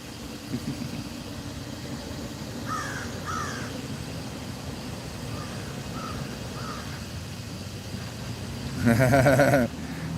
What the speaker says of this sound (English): You heard the crows?